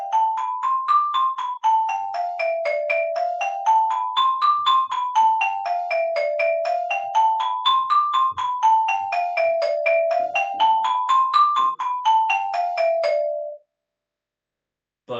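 A D Dorian scale played on a tuned percussion instrument, clear ringing bell-like notes struck one after another in an even rhythm, rising and falling through several runs, close and bright, alone, then silence before a last struck note.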